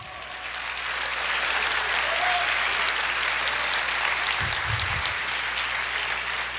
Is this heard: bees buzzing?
no